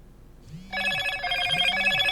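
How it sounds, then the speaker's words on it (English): A Motorola Moto G17 Power smartphone rings with an incoming call, a steady bright electronic ringtone starting after a faint rising chime, close and clear with no talking. "The phone will start ringing in a few seconds."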